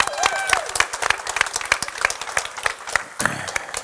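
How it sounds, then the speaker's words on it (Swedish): A crowd applauds at a cooking competition semifinal, clapping sharp and close over a noisy room, with a brief voice and kitchen clatter mixed in before a short burst near the end. "En applåd för det"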